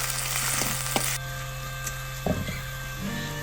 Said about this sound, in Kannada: ಟೊಮ್ಯಾಟೋವನ್ನು ಸಹ ಸ್ವಲ್ಪ ಚೆನ್ನಾಗಿ ಫ್ರೈ ಮಾಡ್ಕೊಳ್ಳಿ.